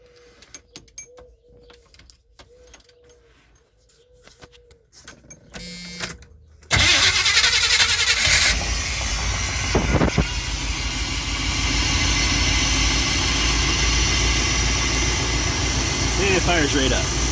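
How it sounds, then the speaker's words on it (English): A 1981 Chevy van's 5.7 liter 350 fuel-injected V8 cranks and fires up abruptly after quiet shuffling, then settles into a steady, loud, close idle that runs continuously for the rest of the clip. "And it fires right up."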